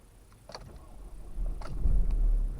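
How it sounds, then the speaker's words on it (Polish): An Opel Astra engine cranks and catches, rising from a quiet click and rustle into a low, building idle rumble, close by. "Spróbujemy odpalić. No, zobaczymy jak to pali."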